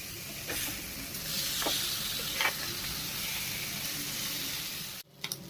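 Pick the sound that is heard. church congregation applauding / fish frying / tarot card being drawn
fish frying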